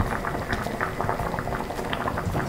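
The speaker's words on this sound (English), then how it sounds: "So guys, it's boiling." Kenyan pilau rice boiling in a covered pot gives a steady bubbling simmer, with constant close-up liquid burbling and popping and no voices.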